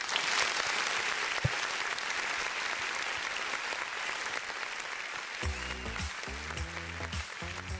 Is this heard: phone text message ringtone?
no